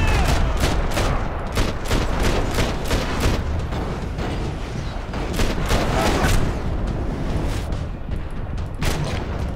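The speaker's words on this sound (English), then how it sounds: "this is a gunfight, jeez Louise" A gunfight in Max Payne 3, rapid bursts of loud, close gunshots repeating in quick succession over a dense booming din, without pause for the whole stretch.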